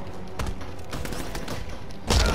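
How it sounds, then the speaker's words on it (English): Gunfire in Batman Arkham Knight, a rapid scattered volley of shots over about two seconds, ending in a louder nearby blast. "Can you fucking stop shooting for fuck's sake?"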